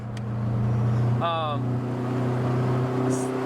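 A Honda CR-V with a B20 VTEC engine and all-wheel drive runs at a steady idle, a close, low humming drone; a short voice breaks in partway through.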